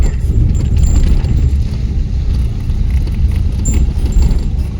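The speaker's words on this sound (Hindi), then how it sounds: "ये नेपाल की गाड़ी आई है" A private car pulls up on a mountain road in Nepal, its engine rumbling low and steady at close range alongside rustling handling noise, with no talk.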